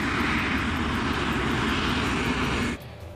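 Airliner engines of LAPA flight 3142 roar steadily and loudly as the plane taxis toward the runway, a dense continuous whine and rumble that drops off sharply near the end.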